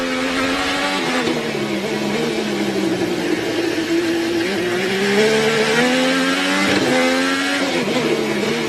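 An IndyCar race car at the 2013 Houston street race drones loudly and continuously at high revs, heard onboard. The pitch rises and falls while the gearbox rattles and clatters over the bumps, with no voices.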